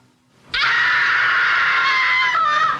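A woman's high, sustained scream from a Doctor Who episode, one loud unbroken shriek lasting over two seconds that starts abruptly and trails off only slightly at the end.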